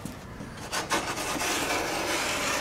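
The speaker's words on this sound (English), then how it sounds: "Trimming off the port side bottom to our notch." Plywood bottom planking on a classic wooden boat kit is trimmed along the stem angle with close, continuous rasping strokes.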